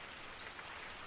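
Steady rain falls as a soft, even hiss, faint and continuous with scattered drops and no voices.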